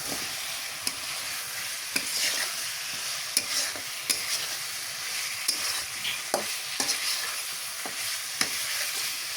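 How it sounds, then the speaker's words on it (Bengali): Chicken meat being stir-fried in oil with spices, a sizzling bed broken by regular scraping clicks of a spatula, close up with no one talking. "এখন আমি মাংসটা এক করে মাংসটা তেলে দিয়ে আমি মাংসটা এখন কষাই নেব।"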